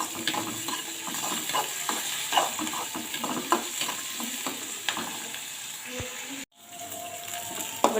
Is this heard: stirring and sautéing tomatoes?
yes